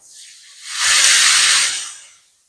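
Cut pumpkin, leafy greens, eggplant and pointed gourd hit hot oil together, bursting into a loud broad sizzle that swells for about a second, holds steady, then fades away.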